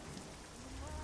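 Rain falls in the trucking game American Truck Simulator as a steady, faint wash of patter with no breaks and no voices.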